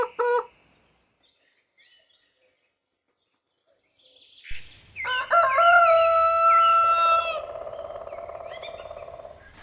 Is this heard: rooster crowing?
yes